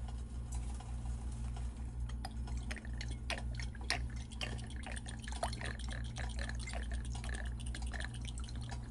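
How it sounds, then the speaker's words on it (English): Oil goes into a pan on the stove for pan-searing rockfish, with a thin trickle and scattered small drips and ticks over a low steady kitchen hum. "I'm gonna put some oil in the"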